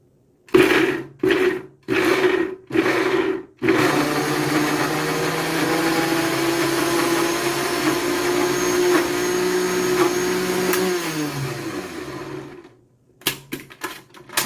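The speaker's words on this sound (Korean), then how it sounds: "커터 기능으로 탁탁 한 네다섯 번 쳐준 후 믹서 기능으로 돌려주세요" A blender grinding onions whirs in four or five short pulses, then runs continuously in a loud, steady grinding drone before winding down, followed by a few brief bursts.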